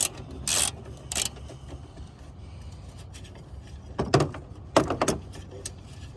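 A 3/8 socket ratchet works at a hose clip on a Jeep Compass upper radiator hose, giving a few bursts of clicking and metallic rattling with short gaps between, close by.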